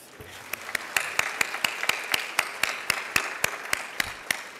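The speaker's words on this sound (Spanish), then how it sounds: "Un aplauso para Edgardo." Applause from a festival audience during a Spanish-language talk by Mabel Katz at MCA Festival 2012: evenly spaced, loud claps in a steady rhythm, as from a few close hands, with no talking over it.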